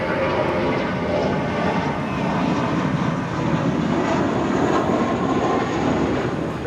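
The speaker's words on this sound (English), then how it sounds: "That is Spirit Airlines 504 departing to New Orleans on an A320." A Spirit Airlines Airbus A320 departing Los Angeles International Airport gives a steady, broad jet-engine roar that holds at a constant loudness throughout, with no talk over it.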